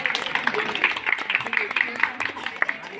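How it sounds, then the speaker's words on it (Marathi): Applause and clapping from guests welcoming a couple at a Marathi baby shower ceremony held by a women's bhajan group, sounding as scattered, moderately loud claps with a voice speaking over them. "त्याच्यासाठी सर्वांनी एकदा जोरदार टाळ्या होत्या"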